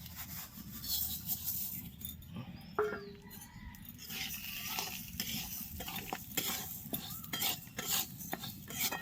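Moong dal being dry-roasted in an oil-free pan over a stove, stirred continuously with a steady scraping and rustling of lentils against metal, with occasional clinks of the utensil, close and moderately loud.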